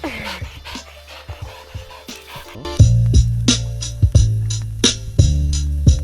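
Bowie the dog panting on Lopez Island, rapid rhythmic breaths close to the microphone with a few bumps and scrapes, growing louder partway through amid a steady low hum.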